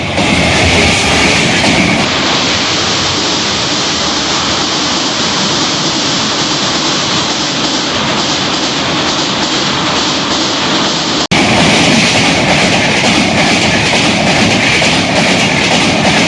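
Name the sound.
train passing by on its way to Guwahati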